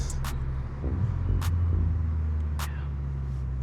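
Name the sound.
car with Milltek race exhaust driving on the road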